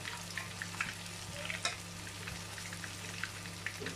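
Finely grated, thin potato galettes fry in a pan with a continuous close sizzle, dotted with small crackles and pops. Nobody speaks over it.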